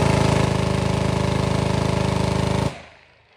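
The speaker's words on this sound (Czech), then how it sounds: "Je to minigun samozřejmě, ráže 308, ta základní kadence je 1500 ran za minutu" .308 calibre minigun at a shooting competition fires one continuous, extremely rapid buzzing burst at about 1500 rounds per minute, loud and close, then cuts off sharply into a fading echo.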